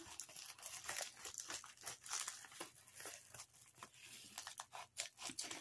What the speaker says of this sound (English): I'm going to cut this across